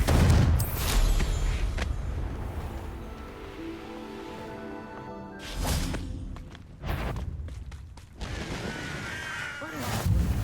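Confringo fire spell blasts in Hogwarts Legacy: several sharp explosive bursts and whooshes spread across the stretch, separated by quieter game ambience, fairly loud and close.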